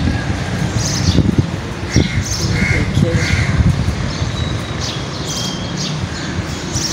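Several crows caw repeatedly in the open, some near and some farther off, over a steady wash of outdoor wind and distant traffic.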